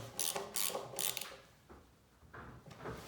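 A ratchet clicks in quick bursts while tightening a bolt on a Honda GX160 small engine being rebuilt, close and crisp, followed by a few softer clicks.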